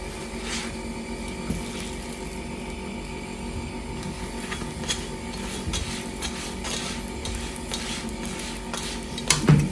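Fenugreek (methi) paratha cooking on a griddle as a little ghee is spread on the second side, giving a steady soft sizzle with faint scraping and utensil clinks, ending in a brief louder clatter.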